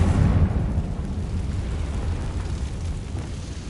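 A Confringo fire spell detonates in Hogwarts Legacy, a heavy, close explosion at the start that rolls on as a continuous low rumble and dies away gradually.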